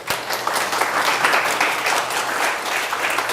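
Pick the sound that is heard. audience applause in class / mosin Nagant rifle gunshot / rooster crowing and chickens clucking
audience applause in class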